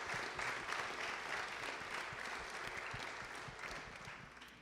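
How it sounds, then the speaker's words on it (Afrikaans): Sustained applause from a church congregation during a live Sunday morning service, steady dense clapping filling the whole stretch at moderate level with no voices over it. "Kom ons geef vir die ouens hier rondom ons een hande klapie"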